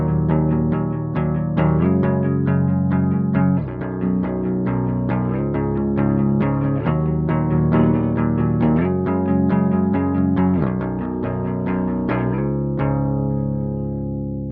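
Clean electric guitar rings out barred chords from a song, steady strummed attacks repeating for about twelve seconds at a close, even level before the last chord fades out alone.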